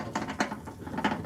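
A ratchet works on 10 mm screws from a car window regulator, giving a short burst of quick, close mechanical clicks in an uneven rhythm, with no speech.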